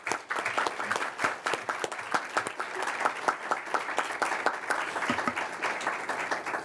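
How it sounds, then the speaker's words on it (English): Audience applause at an FCC open commission meeting, a steady burst of many hands clapping throughout, fairly soft and distant in a meeting room. "give them a round of applause"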